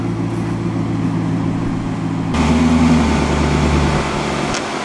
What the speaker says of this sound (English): Nice sounding V8 engine.